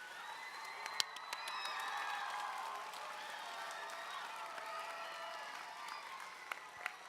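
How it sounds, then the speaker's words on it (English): Kids on teams at a Tech Challenge awards ceremony applaud their parents and teachers, faint distant clapping from a large crowd with scattered cheers and a few sharp claps standing out. "I want to hear the applause for your parents and your teachers"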